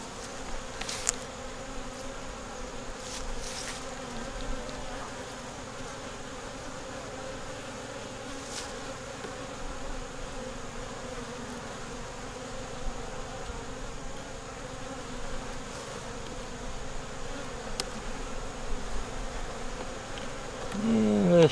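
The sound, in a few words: honey bees buzzing around a hive feeder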